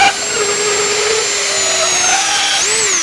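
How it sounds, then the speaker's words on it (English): A power drill fitted with a barrel-shaped round sandpaper drum sands a parrot head, giving a steady, loud high-pitched whine that runs continuously, dipping and rising slightly in pitch near the end. "I've got my drill and I've got a round sandpaper disc on the end of it, a barrel shaped."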